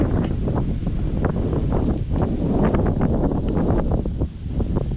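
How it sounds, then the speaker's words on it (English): Gusty wind batters the microphone in loud, rumbling bursts, with rustling and crackling mixed in throughout, on a rural backroad in fall. "Pretty windy today."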